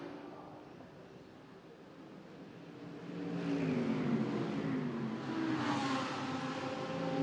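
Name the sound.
GT3 race cars accelerating out of pit lane, Macau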